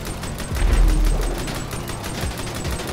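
Vehicle-mounted guns fire in GTA 5, a dense rapid rattle of shots with a deep boom early on, loud and continuous over three seconds with no voices.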